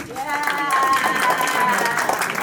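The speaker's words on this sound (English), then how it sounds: "Can we please get a round of applause, please?" Applause from a crowd at a prize-giving ceremony, a dense wash of clapping that holds steady throughout, with a faint tonal sound and murmuring mixed in.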